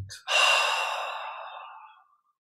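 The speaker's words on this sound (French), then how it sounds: "Et on expire en détente." A slow, relaxed exhale during a guided breathing meditation, one long airy breath out close to the microphone that fades gradually over about two seconds, heard alone.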